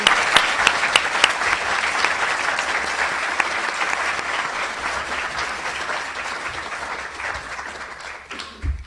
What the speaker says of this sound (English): a round of applause for the class of May 2027